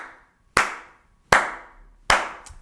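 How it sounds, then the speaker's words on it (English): A person on a crowded street claps three times, each sharp, loud hand clap spaced under a second apart and dying away, with a faint fourth tap at the end. "Oh, somebody clapping"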